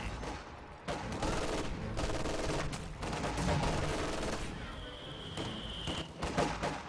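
Rifle fire and light machine gun bursts from a real-time strategy battle between grenadier and conscript squads, dense continuous crackling gunfire with a long shrill whine near the end.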